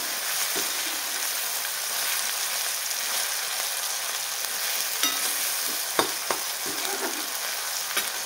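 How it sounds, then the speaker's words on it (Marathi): Tomatoes sauté in a pan for egg bhurji, a steady, soft frying hiss with occasional spatula clicks and stirring taps, close and without any talk. "टोमॅटो आहे तो पूर्ण छान परतला पाहिजे."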